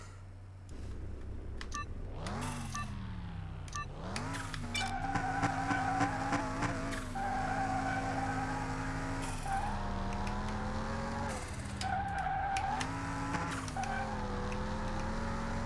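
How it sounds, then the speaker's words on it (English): A race car engine in the game Car Mechanic roars and shifts through gears, pitch climbing then dropping repeatedly, with turbo whine over a steady mechanical drone. "Listen to that turbo."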